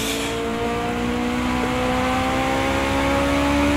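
An LMP2 prototype race car in the Project Cars 2 game, racing at Laguna Seca, gives a loud, sustained engine drone. The pitch climbs steadily as it accelerates, and no voice is heard.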